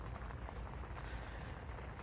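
Steady rain patters on a carp fishing camp at a big reservoir, a constant soft hiss of drops on bivvy and ground, even and unbroken, with no voices.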